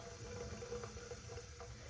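Water runs steadily from a sink tap over hands at close range, a continuous even splashing that holds through the short moment with no talk.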